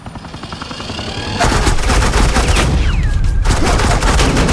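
Rapid automatic gunfire from Batman: The Enemy Within: a dense, loud, continuous burst of shots that starts at moderate level and surges louder partway through, sustained to the end with no talk.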